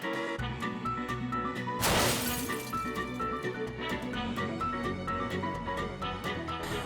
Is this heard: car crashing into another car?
yes